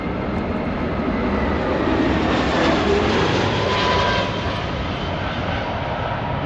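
A plane comes in to land at Washington National Airport, heard from Gravely Point park beside the field, its engines a loud, steady roar that swells slightly and holds throughout with no one talking.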